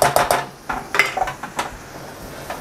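Utensil stirring flour into melted butter in a pan for garlic chicken, a few quick scraping clinks against the pan, close and fairly loud at first, then fading to softer scrapes.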